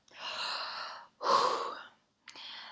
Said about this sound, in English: I have to take a deep breath.